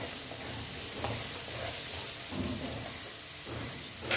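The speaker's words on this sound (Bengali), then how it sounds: "এখন আমি এখানে দিয়ে দেবো অল্প ধনের গুঁড়ো, তারপরে দিচ্ছি জিরের গুঁড়ো, দিয়ে একটু নেড়ে চেড়ে নেব" Ground coriander and cumin fry in a pan for a vegetarian radish ghonto, sizzling steadily with a rain-like crackle and periodic scraping stirs.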